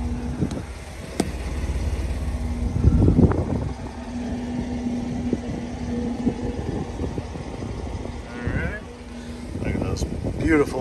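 A 2008 Jeep Wrangler Unlimited X 4x4 idles with a steady low exhaust rumble at close range, buffeted by wind noise, while someone talks over it.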